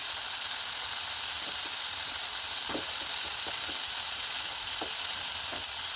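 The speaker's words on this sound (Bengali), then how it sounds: "এবার একটু ভালো করে কষাবো।" Turmeric, cumin and chili powder frying in a pan for prawn malai curry, giving a loud continuous sizzle close up with occasional scraping stir strokes.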